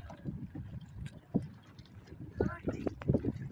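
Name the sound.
kayak being paddled on Alappuzha backwaters, Kerala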